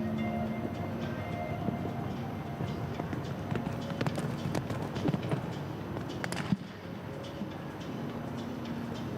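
Horse hooves thudding in a rhythmic gallop over an outdoor arena during a CSI3* two-phase show jumping round in Doha, steady and moderately distant under crowd ambience.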